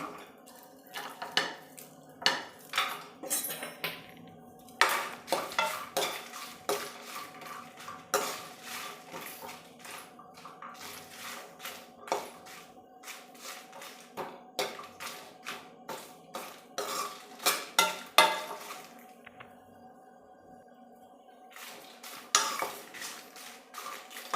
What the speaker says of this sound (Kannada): ಈಗ ಅರ್ಧ ರೋಸ್ಟ್ ಆಗಿದೆ ಅದಕ್ಕೇ ಬೆಳ್ಳುಳ್ಳಿ ಹಾಕ್ತಾಯಿದ್ದೀನಿ